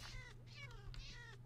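A cat in Minecraft meows three times in quick succession, each call clear and close, over a steady low background hum with no talking.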